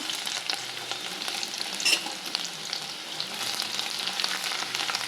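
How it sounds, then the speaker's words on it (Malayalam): Garlic and ginger hit hot oil in a pan for American chopsuey, giving a loud, bright, crackling sizzle that runs throughout, with a few stirring scrapes and no talking. "ഓയിൽ ചൂടായി വന്നിട്ടുണ്ട്. നമുക്കതിലേക്ക് ആദ്യം വെളുത്തുള്ളി ഇഞ്ചി ഇടാം."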